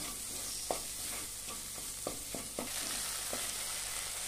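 Masala sizzles as it roasts in oil for a drumstick and potato curry, a soft continuous frying hiss punctuated by several light scrapes and taps of a stirring spoon.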